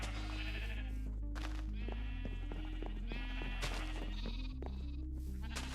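Sheep in a Minecraft modpack, FTB Interactions Remastered, bleating in short repeated calls over a bright, continuous synth music bed, with several bleats overlapping across the span.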